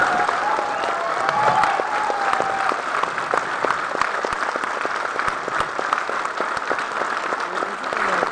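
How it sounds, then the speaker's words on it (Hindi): An audience at a members' event in Guwahati rises for a standing ovation, producing loud, sustained applause with dense clapping that runs evenly for over eight seconds and is joined by faint crowd sounds. "मैं चाहूंगा एक बार हम खड़े होकर गौतम वाली जी के लिए रेस्पेक्टफुली एक बार जोरदार तालियां जरूर बजाएं।"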